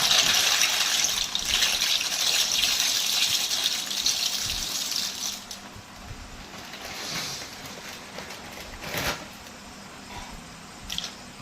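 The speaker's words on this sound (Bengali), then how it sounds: "গরম জলে পাস্তা দিয়ে দেওয়া হলো" Dry pasta slides into a pot of hot water at home, a hissing, gushing wash of water with soft splashes and drips, loud at first then settling quieter, with a few brief knocks near the end.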